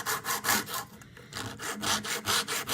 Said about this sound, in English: Just place the board down on either the sandpaper or the flat file and kind of run it